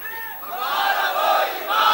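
A crowd at a religious seminar chants a slogan in unison, a loud, sustained roar of many voices rising and holding for a couple of seconds.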